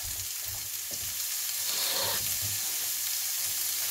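Carrots sizzle in a hot pan while a little water is added, a steady broadband frying hiss with a brief surge of steam near the middle and soft low knocks underneath, close and continuous with no talk.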